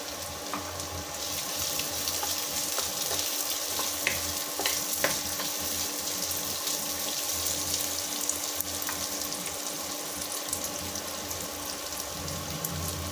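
Chopped onion frying in a pan for a Tamil sundakkai vathal kuzhambu, a steady close sizzle with light stirring scrapes throughout, no talking.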